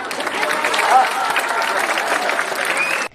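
Sustained, dense applause from a crowd of school students, teachers and staff at a retirement farewell ceremony, loud and steady for about three seconds before cutting off abruptly.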